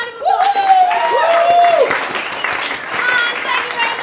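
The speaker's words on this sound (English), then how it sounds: "Round of applause." Audience applauding guests after a stage performance, steady clapping from a crowd throughout, with a voice speaking over the start and an occasional whistle.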